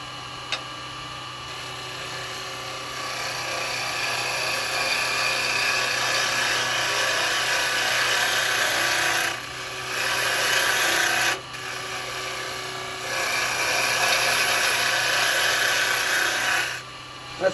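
Steady scraping hiss of carbide chisels cutting a spinning wooden blank on a lathe, shaping a small hobbit house, continuous and close with a couple of brief breaks as the tool lifts off.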